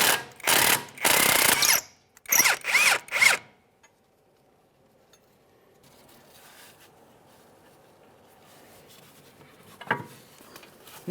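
A power tool, likely an impact wrench, runs in a few loud bursts, one long then several short, while removing a rear shock absorber mounting bolt on a 2013–2020 Ford Fusion, then fades to quiet shop ambience with faint clanks.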